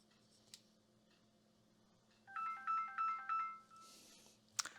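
A phone rings near a laptop motherboard repair bench, giving four clear electronic trill bursts in a steady rhythm, with a soft click before them and a sharp clatter after them in an otherwise quiet room.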